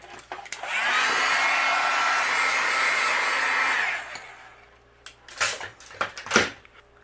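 A heat tool blows a steady, loud whirring stream of hot air for about three seconds while melting white embossing powder on a stamped card, then switches off, followed by a few faint handling clicks and rustles.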